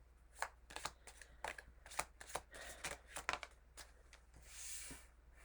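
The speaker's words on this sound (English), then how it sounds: "I divided them up between the two decks and trying to just shuffle them back in." Playing cards are split between two decks and shuffled back together, giving soft, close riffling and flicking bursts with light taps between them in a quiet room.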